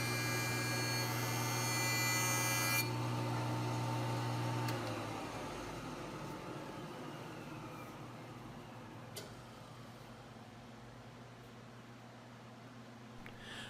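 Exotic wood for a homemade bench vise milled down to final dimensions: a loud, steady machine whine that winds down after a few seconds, leaving a broad, lingering hum with a few faint knocks.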